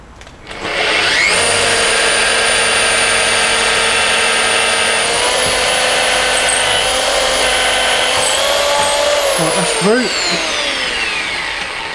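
A power drill fitted with a 4.5 mm bit bores through a clamped piece of wood in a workshop, its loud steady motor whine running continuously for about nine seconds before winding down.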